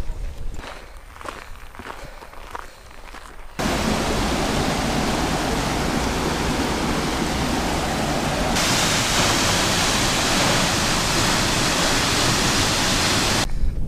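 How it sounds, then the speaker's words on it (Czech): Svartifoss, the black waterfall near Skaftafell glacier in Iceland, roars in a loud, steady rush after a few seconds of footsteps on a path. "To je on, černý vodopád."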